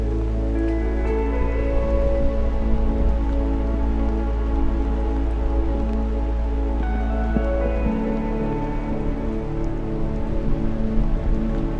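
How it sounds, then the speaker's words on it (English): Steady rain falls outdoors, a continuous, close, even patter on surfaces that lasts throughout with no voices, while a faint tonal hum runs underneath. "the rain didn't take long"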